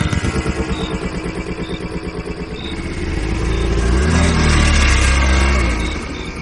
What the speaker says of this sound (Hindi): राजू भाई ने चुपचाप इंजन स्टार्ट किया